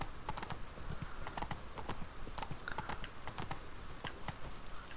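Roach, a horse in The Witcher 3: Blood & Wine, clip-clops along at a steady walking rhythm, hooves close and distinct over faint ambient background, with no talk.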